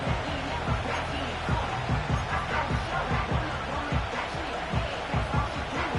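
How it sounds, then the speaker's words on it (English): A stadium crowd in the Madden 25 football video game roars as a dense, continuous wash of cheering and hubbub with rhythmic low thumps throughout, loud and steady. "This crowd doing all they can."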